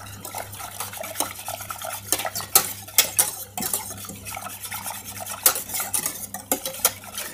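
Croque-monsieur filling with ham, truffle and Saint-Nectaire is stirred in a pan, with repeated scraping and clinking of a utensil against the metal over a soft, low background hiss.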